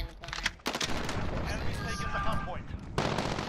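Sharp blasts and gunfire bursts from a Call of Duty Modern Warfare match, including a concussion grenade, crack at the start and end with rumbling battle noise between, heard close amid game effects.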